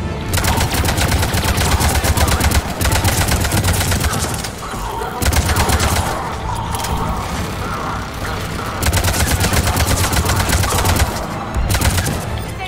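Sustained rapid automatic gunfire from the video game Mass Effect 3, dense loud bursts with brief pauses between volleys, continuing throughout.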